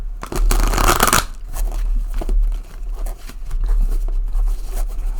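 Stiff tarot cards being shuffled by hand, heard as close, loud riffling bursts, with a strong flurry at the start and softer scraping and flicking after it.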